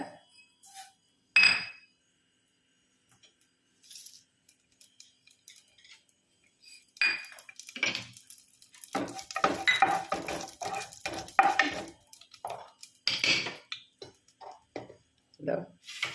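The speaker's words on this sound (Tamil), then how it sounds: "கடுகு வெடிக்கட்டும் முதல்ல." Mustard seeds crackle and pop in hot ghee in dense bursts while tempering amla (gooseberry) dal, mixed with utensil clinks and a voice talking at times.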